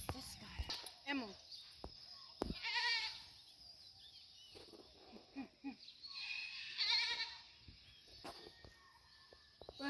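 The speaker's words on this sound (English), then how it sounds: "Goat. Yeah, goat. Goat." A goat at Panaewa zoo in Hilo bleating a few times at close range, the bleats interleaved with people chatting and a voice, plus faint birdsong and footsteps.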